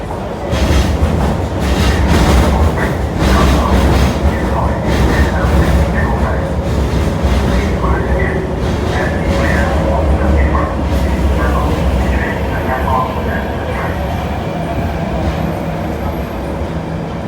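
An MTR metro train at Kwun Tong Station rumbles loudly and continuously, with wheel and track noise filling the whole stretch at close range.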